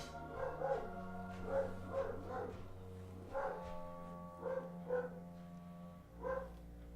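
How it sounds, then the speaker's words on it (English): An angry dog barks from upstairs in a house, muffled bursts of barking in short clusters with pauses, heard at a distance over a low background hum without talk. "I have an angry dog upstairs."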